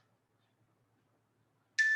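A workout interval timer buzzer from a home fitness class gives one short, bright electronic tone that cuts in abruptly at the very end after near silence.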